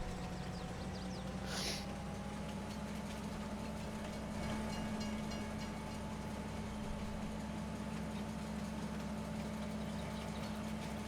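A train in the Farming Simulator 22 game, on the Silverrun Forest map, pulls away with a steady engine drone and a low rumble that hold at one level throughout. A faint higher whine runs over it, with a brief hiss early on.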